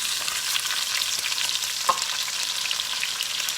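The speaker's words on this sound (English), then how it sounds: "So then we will start with our carrots. This will help cool the pan down." Carrots and onions frying in a hot pan, a steady close hiss of sizzling with a faint clink of stirring partway through.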